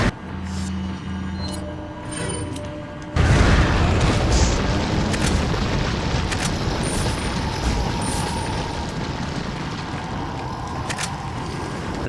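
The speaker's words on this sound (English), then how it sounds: "they're all getting lined up, so eat grenade" A grenade blast in Resident Evil 4 erupts suddenly after a few seconds of quieter game ambience, a loud broad boom followed by a long rumbling, crackling tail that stays loud to the end.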